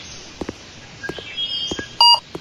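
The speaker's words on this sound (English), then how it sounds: "We're listening out for a decent beep." Soft taps lead into a few faint tones, then a short, loud electronic beep near the end.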